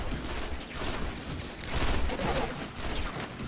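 Dense, continuous gunfire in the Destiny shooter game forms a steady wall of rapid shots that swell and ease slightly, loud and close throughout with no clear gaps.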